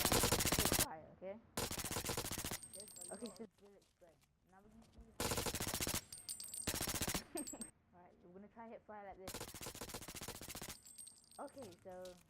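The UPick submachine gun fires in the PS4 shooter Blacklight Retribution in several loud, rapid bursts separated by short pauses, with someone talking in the gaps between volleys.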